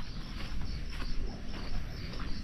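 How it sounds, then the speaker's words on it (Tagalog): Crickets chirping outdoors at night in the Philippines, a dense, continuous trilling chorus with pulsing rhythm, steady and moderately loud with no voices. "Mga kuliglig na ang naririnig natin."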